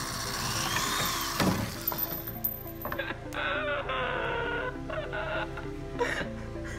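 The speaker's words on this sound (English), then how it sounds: "we're drilling a screw" A power drill drives a screw during construction of a boat made from plastic bottles, with a few short whirring and ratcheting bursts at moderate loudness over busy background noise.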